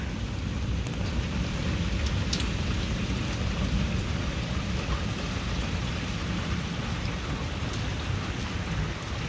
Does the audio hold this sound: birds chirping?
no